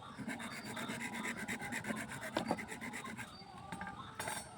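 A thin bamboo stick is cut and scraped with a blade while shaping a gogona, the bamboo jaw harp, giving close, rhythmic rasping strokes with no talking.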